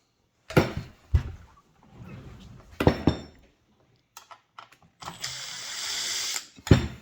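Screws are worked out of the handle of a Makita DMR115 radio, heard as close metallic clicks, ratcheting and clinks in short separate bursts with quiet gaps, plus one longer scraping stretch.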